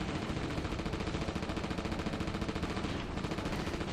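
Rapid, continuous automatic gunfire aimed at dragons in the 2002 PS2 game Reign of Fire, a steady loud stream of closely spaced shots with no pause, alone without talk.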